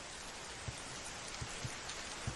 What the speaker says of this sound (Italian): Dai, che piove.